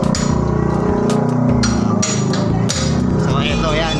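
A ball joint and knuckle bearing on a vehicle being tightened with metal hammer strikes, a run of sharp clanging blows in quick succession, close and loud, mixed with talking in the background.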